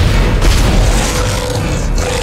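Loud, dense gunfire from the horror game Dead Space fills the moment, a sustained heavy booming barrage with rumbling low end throughout.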